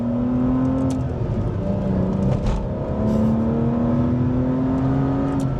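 Aston Martin Vanquish V12 in sport mode, its loud engine droning close by with the pitch falling and rising as it downshifts and revs. No voices are heard.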